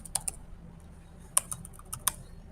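Someone types an SQL query on a computer keyboard: a short, irregular run of crisp key clicks, close and fairly quiet, with a few sharper keystrokes standing out.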